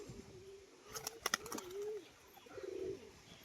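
Pigeons kept by a fancier give soft, low cooing calls at moderate distance, a few rolling coos separated by a sharp burst of clatter or wingbeats, faint against a quiet background.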